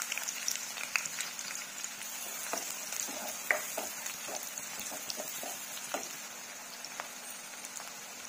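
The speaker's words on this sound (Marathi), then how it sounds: "आता आपल्याला कांदे घालायचे आहे." Chopped onions fry in seven spoons of hot oil in a heated kadhai for Khandeshi dhaba-style shev bhaji, giving a steady close crackling sizzle with scattered sharp pops and light stirring scrapes throughout.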